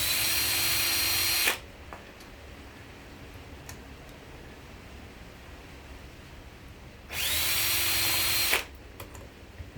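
A power drill works at a stubborn double-nutted screw, whirring in two loud bursts of about a second and a half each, separated by quiet room noise with small clicks.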